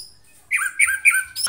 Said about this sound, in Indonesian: kebetulan ini trotol jantan kita Trahgen B3 ya.